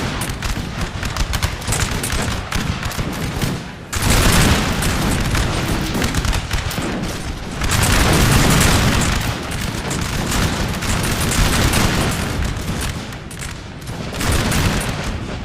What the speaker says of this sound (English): Rippling fire on their grenadiers.